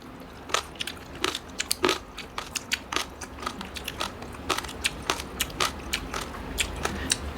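Sharp, close crunches and crackles of crispy lechon pork skin being bitten and chewed come in quick irregular bursts, loud against a quiet background.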